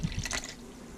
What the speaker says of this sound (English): I'm going to pour some teriyaki sauce